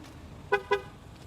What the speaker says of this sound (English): it honks the horn at me twice to say, hey, silly, you have the key in your pocket